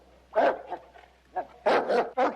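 A dog named Bob barks in short, sharp bursts at close range, a few loud yaps bunched together with brief pauses, in a Western TV series scene.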